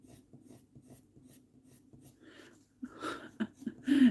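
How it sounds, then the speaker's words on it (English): Pencil scraping and rasping across textured paper while colouring in chibi girl drawings, a soft rhythmic stroking close by that grows louder and rougher toward the end. "I bet you're all hearing me scraping my pencil when you're heading. It's this godforsaken paper."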